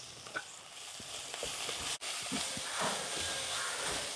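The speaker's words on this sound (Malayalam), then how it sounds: "അപ്പം നമ്മുടെ കൊടുത്തൂവയും കൂടെ അങ്ങോട്ട് ഇട്ട് കൊടുക്കുവാണേ" Kodithoova leaves drop into a hot pan of oil for tempering, giving a steady broadband sizzle that holds throughout with a brief break midway, a few faint clicks and stirring touches underneath, no voices.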